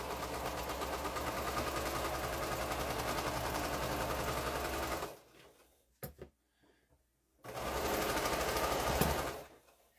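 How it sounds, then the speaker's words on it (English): A sewing machine stitches the final seam of a quilt, running in a loud, steady burst for several seconds, pausing briefly with a few clicks, then resuming for another short run before stopping. "So I'm going to sew this last seam."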